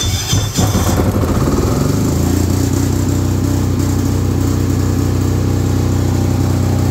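A 10 kVA PK10000STRA generator engine runs under test, settling within the first second into a loud, steady, close mechanical drone that holds evenly to the end, with no talking.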